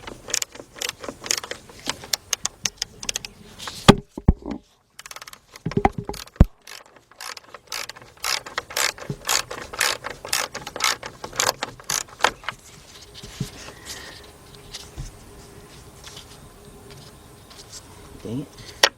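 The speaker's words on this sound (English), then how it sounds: "what I'm going to use is a 12mm deep 3/8 drive with a 3/8 drive, my 3/8 drive ratchet, and I'm going to unbolt these" A 3/8-inch drive ratchet with a 12mm deep socket clicks in quick repeated bursts while unbolting screws on the sliding door of a 2008 Honda Odyssey, the pawl ticking close and sharp with a short pause partway through.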